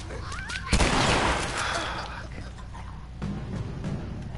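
Gunfire rings out in The Last of Us video game. A loud, sudden burst of shots comes near the start, then the noise trails off into a fading rumble with quieter game ambience.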